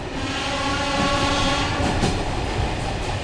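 A city train rolls through Plovdiv between two road lanes, a loud, steady close rumble with rail clatter filling the whole stretch, no voices.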